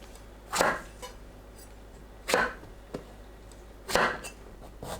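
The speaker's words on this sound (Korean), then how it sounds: "가지는 양 끝을 잘라냅니다." A knife trimming both ends off an eggplant on a cutting board, three sharp close chops spaced a couple of seconds apart over a quiet background, with no talk.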